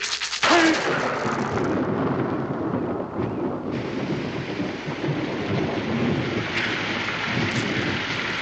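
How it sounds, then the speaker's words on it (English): Heavy rain during a thunderstorm, a dense steady hiss of falling water that opens with a sharp crack and carries on loud and constant, with no voices. "certainly it's raining"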